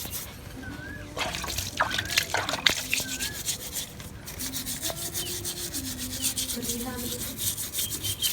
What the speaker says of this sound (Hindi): अब इन पाए को हम इस पानी से अच्छी तरह धो लेंगे,